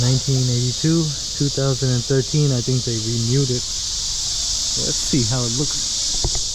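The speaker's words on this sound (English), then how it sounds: "Ooh, you can hear the crickets chirping," A constant high-pitched cricket chorus drones throughout in Seoul, South Korea, while a person talks over it in the foreground.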